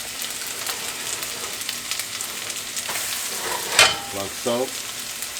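Pancake batter frying in a pan on medium heat, giving a steady soft sizzle throughout with a couple of brief utensil scrapes near the end and a few quiet spoken words.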